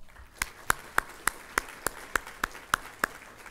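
Audience members at a school district State of the Schools event clap in a slow, evenly spaced beat, about a dozen sharp, distinct claps in a quiet room.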